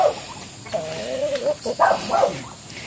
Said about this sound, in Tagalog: Ito ang kanyang mga manok.